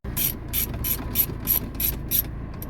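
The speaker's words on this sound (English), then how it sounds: "I'm going to put the 4 screws back on again" Screws are fastened back into a car head unit on an MK5 Golf GTI, producing seven crisp, evenly spaced ratcheting clicks, close and clear with no talking.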